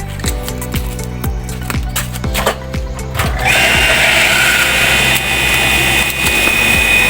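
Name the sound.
engine being started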